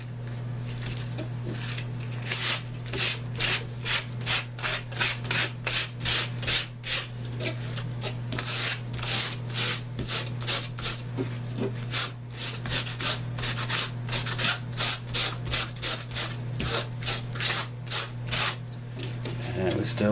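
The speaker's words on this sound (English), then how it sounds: "So we'll just use a combination of the sandpaper and stretching and pulling and crinkling." Sandpaper rubs against fish skin being tanned by the ammonia method, a fast run of rhythmic scratching strokes up close, with a low steady hum beneath and a voice now and then.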